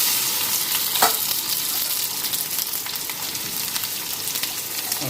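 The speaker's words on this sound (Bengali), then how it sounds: "ছোট কড়াইয়ের তেলটাও গরম হয়ে গেছে। এখানে তিতা করলাগুলি দিয়ে দিই।" Bitter gourd pieces fry in hot oil in a small wok, producing a loud, close, continuous crackling sizzle with a few brief stirring clinks and no talk.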